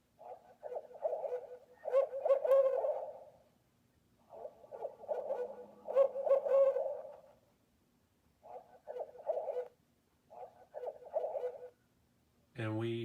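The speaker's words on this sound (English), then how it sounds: "And we hear the owl sounds come out." Owl hoots from an OwlBot bird-intimidator speaker come in several repeated bursts of hollow, pulsing calls with short pauses between them, fairly clear and alone.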